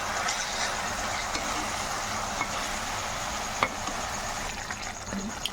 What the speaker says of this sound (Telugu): ఒకసారి అంతా కలిసేలాగా కలుపుకుందాము.